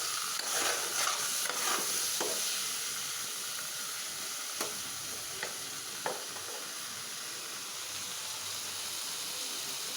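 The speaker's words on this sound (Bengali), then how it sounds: "তো আমি আলুটা আর বেগুনটা একসাথে ভাজা নিয়ে নেব তেলে" Potato and eggplant pieces frying together in hot oil in a home kitchen, a continuous close hissing sizzle with occasional stirring clicks and scrapes, no voices over it.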